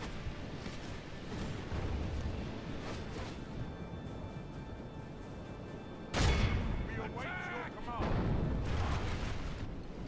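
Gunfire and artillery in a Total War battle set in Westeros, a dense, continuous rumble of muffled booms and volleys with a sharp louder blast partway through, under a voice speaking over the action.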